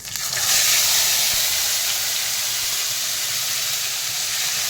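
Tomato, green chili, ginger and poppy seed spice paste drops into hot oil in a pan, setting off a loud, steady sizzle and hiss that swells in the first second and then holds.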